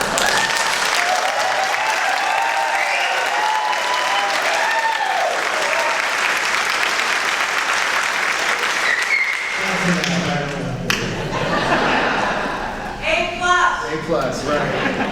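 A crowd at a jazz ensemble concert claps loudly and continuously for several seconds, then the applause thins out as a voice starts talking.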